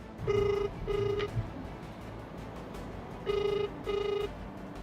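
A phone ringback tone repeats in pairs of short beeps, two beeps, a pause, then two more, heard clearly over faint background hiss.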